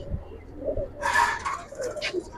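Giribaz pigeons in a loft cooing, soft low throaty calls at close range with a brief brighter rustle midway, heard without talk.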